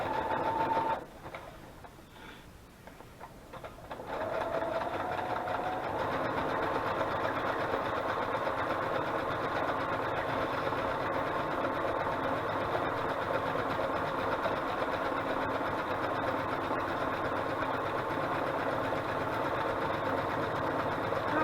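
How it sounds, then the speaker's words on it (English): A sewing machine stitches through collaged paper journaling cards, starting after a few quiet seconds with faint clatter and then running as a loud, steady, continuous mechanical whir that lasts to the end. "And that's all the sewing you have to do on this."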